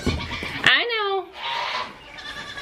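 A Nigerian Dwarf goat lets out a loud, wavering bleat nearby, followed by more agitated bleating and some background noise.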